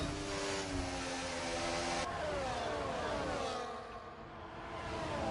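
Racing car engines roar continuously in an Austria round of a racing video game as one car overtakes another, a dense layered whine of several engines shifting pitch, loud and close throughout with no talk.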